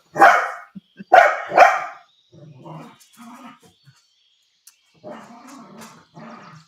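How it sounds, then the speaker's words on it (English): A dog barks in a few sharp bursts close by, followed by quieter scattered sounds and some soft vocal noises. "and barking at the ball."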